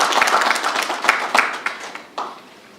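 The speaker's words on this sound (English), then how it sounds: "Please give a round of applause to our presenters." Audience applause for two presenters at the close of a session, a burst of hand clapping that is dense at first, then thins into scattered claps and fades out over about three seconds.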